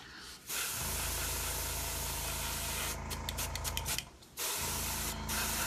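Spray paint hisses from a can in two long, steady, close bursts, with a brief break between them and a short sputtering stretch before the second.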